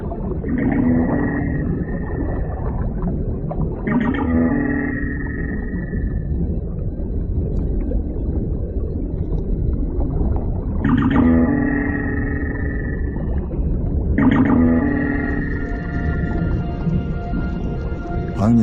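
Dwarf minke whale vocalizing underwater, four loud mechanical-sounding bursts, each a sharp rising onset followed by a sustained buzzy tone, spaced a few seconds apart over a continuous low water rumble.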